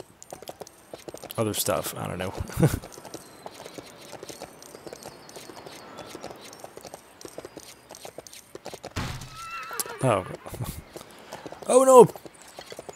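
Horse hooves clip-clopping at a steady walking rhythm during horseback riding in the video game Lego City Undercover, a few short neighs in between, while someone talks over it.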